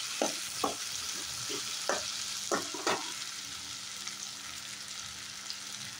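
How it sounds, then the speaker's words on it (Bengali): Potatoes and tomatoes frying in a pan give a steady close sizzle, broken by several sharp clicks and scrapes from stirring in the first three seconds. "দেখো এখানে আলু টমেটো ভাজা হচ্ছে"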